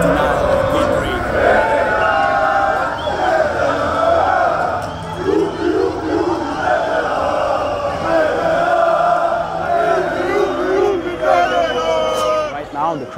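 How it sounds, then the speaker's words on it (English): A large crowd at an anti-gay march in Belgrade chants and yells in unison, a dense, loud wall of massed voices with rhythmic shouted phrases rising and falling throughout. "Right now the crowd is chanting, faggots will not walk through this town"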